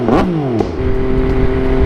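A motorcycle engine with an aftermarket exhaust revs sharply up and back down, then settles into a throaty, rumbling idle close by.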